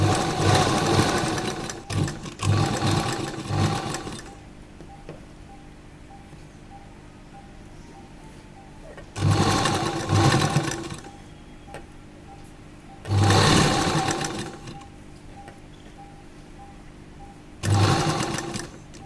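A sewing machine stitches the collar of an A-line kurta in four short whirring bursts separated by quiet pauses, close and clear, with no talking.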